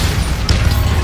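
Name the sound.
Bombarda explosion spell in the video game Hogwarts Legacy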